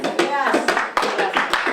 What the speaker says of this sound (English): a round of applause again for Celeste.